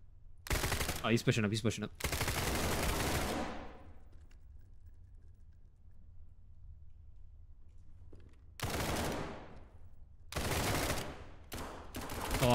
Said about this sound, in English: As we get shot at.